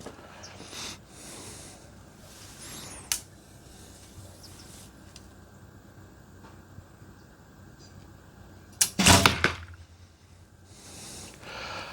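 A quiet outdoor background breaks into a sharp, loud release with a whooshing snap as an arrow leaves a recurve bow, followed by a brief rattle, then calm again.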